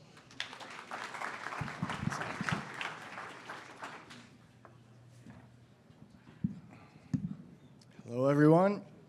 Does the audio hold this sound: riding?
no